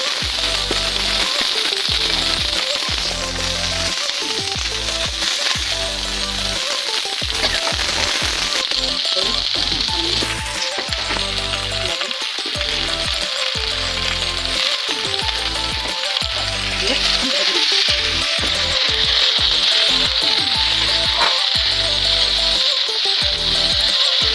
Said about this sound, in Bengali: এই যে আমার সবজি ভাজা হয়ে গেছে